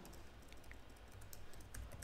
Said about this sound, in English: You just push T and you can type